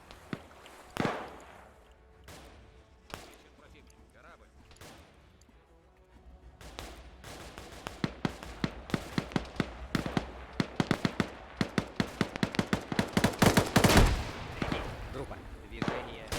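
A grenade machine gun and rifles fire in an Arma-style military game. Scattered shots come first, then a dense, fast run of sharp cracks and thuds that builds and grows louder, with voices talking under it.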